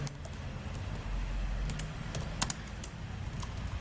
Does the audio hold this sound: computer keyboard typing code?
yes